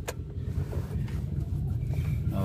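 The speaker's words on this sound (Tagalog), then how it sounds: "So, start natin yung sasakyan." A Kia Picanto is started from inside the cabin with the door shut, a low rumble that settles into a steady idle and fills the whole stretch at moderate loudness.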